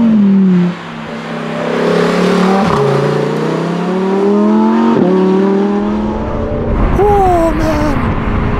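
A Lamborghini Huracan GT3 street car engine revs loudly up close, with repeated rising pulls and a brief gear-change dip, ending in a sharp upward blip.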